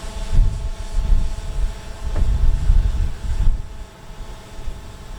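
A DJI Phantom 4 quadcopter drone climbing to altitude, giving a steady, fairly loud whirring rotor drone with low rumbling wind buffeting, continuous through the short stretch with no talk.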